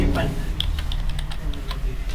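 Numbers are typed on a computer keyboard: a quick, uneven run of about a dozen crisp key clicks, close to the microphone, over a low background rumble.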